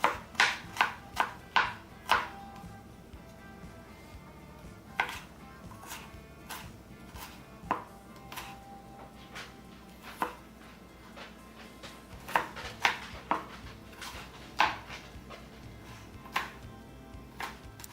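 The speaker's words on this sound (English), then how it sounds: "Now we're going to take our 2 cloves of garlic and we're just going to mince it" A knife mincing two garlic cloves on a cutting board: a quick burst of sharp chops, then scattered knocks spaced out irregularly, close and fairly quiet, with no talking over them.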